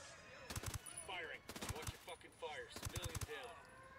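Bursts of automatic gunfire in Ghost Recon Wildlands, three rapid volleys of shots spread across the clip, fairly loud, with speech mixed in between the bursts.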